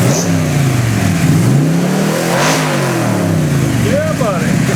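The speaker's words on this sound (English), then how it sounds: "Let's rev it up a little bit." A 1965 Cobra Daytona's engine revs up loud and close, pitch rising and falling in sweeping pulls over a rumbling base.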